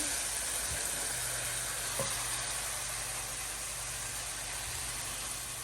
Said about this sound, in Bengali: মশলাটা অলমোস্ট কষানো শেষ কষানো হয়ে গেছে আমি জাস্ট ছেড়ে চিংড়ি মাছগুলো দিয়ে দিলাম